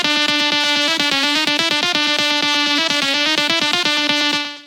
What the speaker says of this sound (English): I started this remake with the breakdown lead